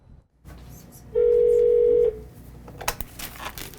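A telephone at a busy florist shop sounds a single steady electronic tone for about a second, clear and prominent over soft room noise, with a brief clatter following.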